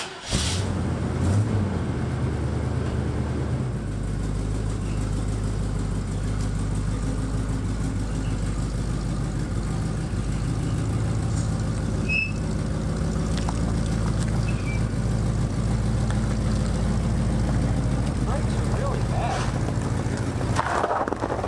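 An old van's engine runs continuously as it sets off driving, giving a steady, loud low rumble with road and body noise for about twenty seconds.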